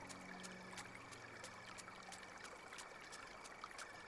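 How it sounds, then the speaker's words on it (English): Flowing water from the video game Carto runs as a steady, gentle stream with soft trickling, constant and unbroken at low volume, with no voices over it. "It's a lovely sound of water,"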